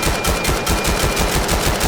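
Rapid gunfire is spammed in the video game Vail as a weapon fires in quick succession, loud close shots in a fast, slightly uneven rhythm for about two seconds.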